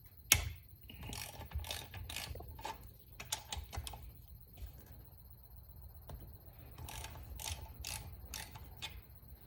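A ratchet wrench clicks in quick bursts as a nut comes loose on the engine case of a 1966 BSA A65L motorcycle, close and crisp against a quiet workshop, with short pauses between runs of ratcheting.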